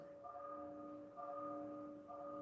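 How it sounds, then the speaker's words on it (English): A church bell tolls in the distance with a faint, sustained ringing tone struck about three times at a slow, even pace under a quiet room. "I don't know if you guys can hear the church bell in the background."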